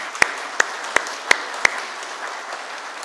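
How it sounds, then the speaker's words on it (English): A handful of sharp, separate hand claps ring out at a steady pace at a formal gathering honouring an ambassador, then fade into a low room hum. "I'd like all of you to applaud the role that the Ambassador himself has played in bringing Pakistan together"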